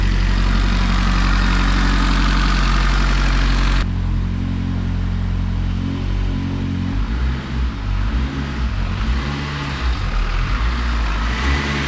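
A 2008 Mugen Civic Si AWD project car idles steadily while warming up, a loud continuous engine drone with a brief level shift early on, running alone with no talk.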